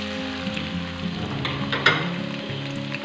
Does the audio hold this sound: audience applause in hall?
no